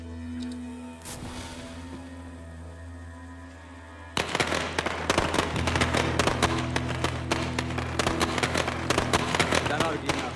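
Firecrackers set off as a distraction in the zombie survival game State of Decay: a quiet stretch with a low hum gives way at about four seconds to a long, dense string of loud, rapid crackling pops that runs to the end, with game voices underneath.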